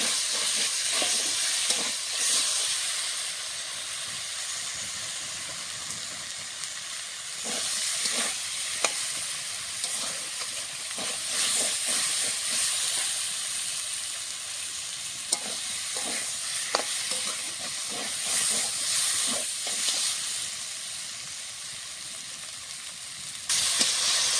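Potatoes sizzle and hiss steadily in hot oil in a pan while cooking for a rupchanda (pomfret) fish curry, with occasional stirring scrapes and spatters close by, and no voices.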